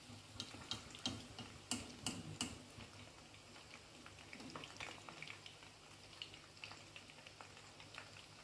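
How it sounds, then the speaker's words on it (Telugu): An Indian snack deep-fries in oil until golden brown, a faint, soft sizzle dotted with sharp little pops and ticks, heaviest early on, with no voices. "డీప్ ఫ్రై చేసుకోవాలండి."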